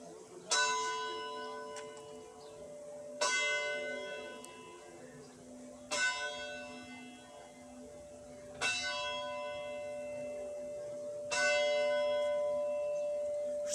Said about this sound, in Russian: Обожаю вот такие вещи, когда бьет колокол, и вибрационные звуки,